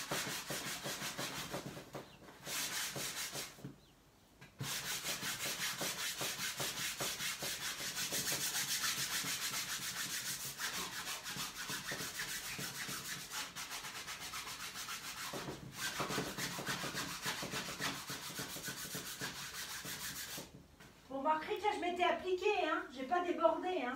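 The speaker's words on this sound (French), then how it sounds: "Donc je vais poncer l'autre côté avant de continuer." Hand sanding across a chalk-painted fabric armchair, a steady scratchy rubbing in long continuous strokes with brief pauses, close and fairly loud, with someone speaking near the end.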